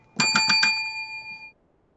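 A small bicycle-style bell rings four quick, bright dings in a row, close and clear, then its metallic tone rings on and fades over about a second into quiet.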